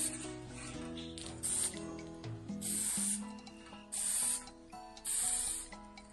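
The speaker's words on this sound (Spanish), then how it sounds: "le vamos a echar un barniz en spray" An aerosol spray can of varnish hisses in three or four bursts of about a second each over a recycling craft project, with music playing steadily underneath.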